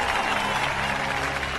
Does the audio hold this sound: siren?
no